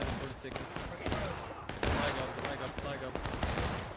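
Musket volleys crackle across a Civil War video game battlefield, a continuous ragged fusillade of overlapping shots with sharper cracks standing out, while a voice talks faintly underneath.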